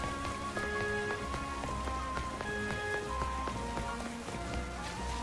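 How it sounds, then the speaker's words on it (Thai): Rain falls in the video game Pokemon Legends Z-A, a steady dense patter across the whole stretch, mixed with soft repeating musical tones from the game and no talking. "ฝนตกนะ"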